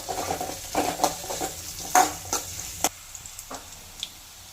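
Chopped garlic and ginger stirred as they roast in a pan for a spicy chicken curry, with a series of scraping, clinking strokes and a soft sizzle that thins out toward the end.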